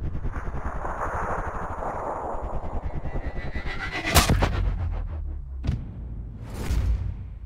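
A sniper rifle headshot in the video game Sniper Ghost Warrior Contracts: a loud, sharp shot booms out over a steady game ambience, followed by a second crack and then a third burst a moment later.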